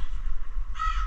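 Crow cawing near a dumpster, one harsh caw near the end over steady low background rumble and noise.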